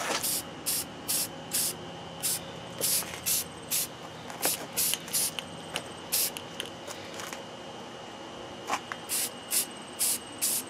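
Short bursts of a spray paint can hissing in a steady on-off rhythm as it coats scrap tile, close by, with faint background noise between bursts.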